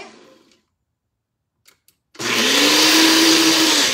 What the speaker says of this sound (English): Now I'm going to turn it on high.